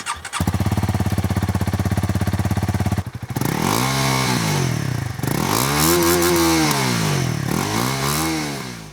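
A 2025 Honda Rebel 300 motorcycle engine runs close by, first a steady rapid idle putter, then a brief stumble before several smooth revs that rise and fall in pitch, loud and alone.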